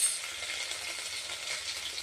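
Garlic fries in hot oil in a pan for Khandeshi-style varan, giving a close, steady sizzling hiss with faint stirring underneath and no talking.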